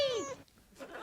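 A cat gives a single drawn-out meow that slides downward in pitch, followed by a short pause and faint rustling.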